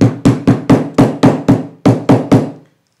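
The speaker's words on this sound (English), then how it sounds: "using a hammer, I will crush them" A hammer strikes mustard seeds in about ten sharp, loud, closely spaced blows at a quick, slightly uneven rhythm, with one short pause partway through, then the sound stops and falls silent.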